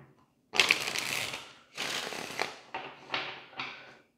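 A deck of tarot cards is shuffled in several quick riffling bursts, close and crisp, each burst fading before the next.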